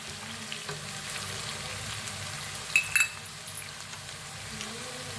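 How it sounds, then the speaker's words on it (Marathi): Onion and green chili frying in a pan, a steady close sizzle and crackle running throughout, with a brief metallic clink of a utensil near the middle and no talk. "आता छान भाजलाय बघा कांदा आणि मिरची"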